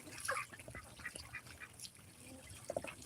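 Several ducks quack on and off over a soft watery background, with scattered calls near and farther off; no voices.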